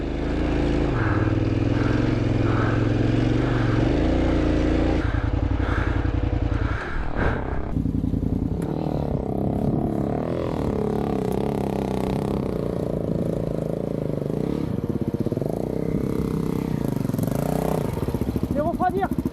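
A trail motorcycle engine revs and pulls hard while riding rough terrain in Morocco, a loud continuous droning roar with rising and shifting pitch that fills the whole stretch, close to the mic.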